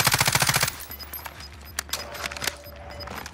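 Rapid automatic gunfire rattles in a Call of Duty: Modern Warfare match, a loud burst of quick repeated shots followed by sparser distant cracks and pops.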